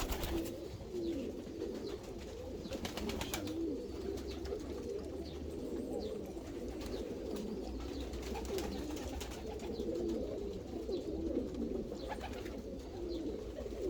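Hungarian gök nakışlı pigeons cooing in a loft, a steady low murmur of overlapping coos from several birds, with faint rustling and occasional wing flutters.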